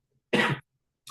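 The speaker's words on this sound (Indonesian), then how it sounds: "Maaf teman-teman, saya lagi batuk teman-teman." A single harsh cough bursts out in a quiet indoor setting, followed by a brief, fainter second catch of the throat; no talking around it.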